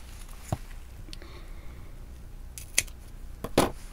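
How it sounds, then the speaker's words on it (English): Scissors snipping paper for a 3D paper evening bag, a few sharp, isolated cuts spaced out over quiet background, close and fairly crisp, with no talking. "I'm going to cut that in half"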